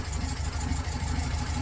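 A VW T2 engine idles after a carburetor adjustment, a steady low rumble with an even, close, unbroken texture.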